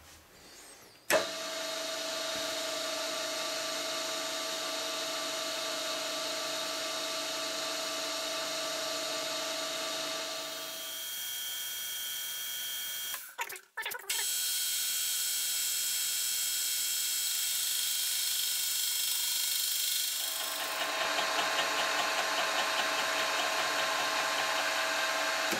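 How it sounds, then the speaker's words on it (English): A boring head runs steadily on a machine tool while its slide is fed very slowly, giving a loud continuous whine with a brief break and clatter midway before the steady running tone resumes, with no talk. "moves the slide or carriage of the boring head very slowly while the machine is running"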